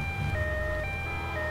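Ambulance siren in GTA Vice City, a steady wailing electronic tone that rises and falls, loud and close, over low engine rumble with no voices.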